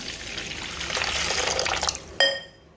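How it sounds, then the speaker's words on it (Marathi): Water pours steadily for about two seconds onto a quarter kilo of barnyard millet, a splashy, broadband rush, ending in a sharp clink and a fading ring, like a metal vessel set down. "हिला त्याच्यात पाणी टाकते"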